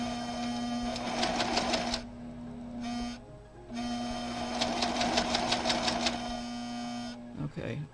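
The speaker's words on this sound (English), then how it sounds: "I'm going to sew to the right of the line just a thread." A sewing machine stitches fabric along a quilt block in fast rhythmic bursts, running about two seconds, pausing briefly, then running again, close up over a steady background hum.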